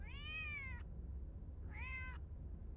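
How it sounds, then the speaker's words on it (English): A domestic cat meows twice, clear and fairly close, with a quiet low background rumble between the calls. "Oh, I can hear the kitty cat."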